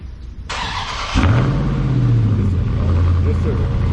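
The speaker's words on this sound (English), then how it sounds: "So let's go ahead and get that cold start for you guys here." A widebody Dodge Charger or Challenger engine cold-starts close by with a starter whir, then catches and flares to a loud rev before dropping to a deep, steady, rumbling idle.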